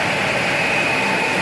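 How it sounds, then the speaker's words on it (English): Old furnace blower converted into a garage fan, running on its high setting with a loud, steady rushing roar of moving air and a constant motor whine. "So there is my old furnace fan converted into a garage fan."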